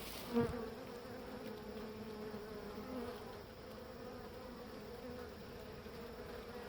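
Honeybees from a weak hive colony hum in a soft, continuous drone, with a brief knock near the start and no voices.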